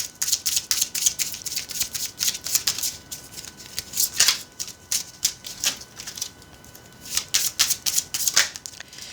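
Tarot cards being drawn and handled, a rapid stream of close, crisp flicks and papery shuffling with brief pauses, with no talking.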